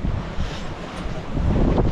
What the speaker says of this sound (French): On a 20 nœuds de vent.